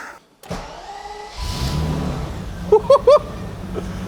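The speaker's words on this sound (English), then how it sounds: "Oh, that pump is so loud." A BMW E31 850 V12 car engine starts and a loud power steering pump whines steadily underneath, with a few short chirping squeals near the end.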